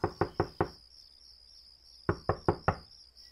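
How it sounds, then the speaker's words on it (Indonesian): Someone knocks on a bedroom door, two sets of four quick, crisp raps separated by a silent pause of about a second and a half, fairly close in a quiet room. "ada yang mengetuk pintu kamarku."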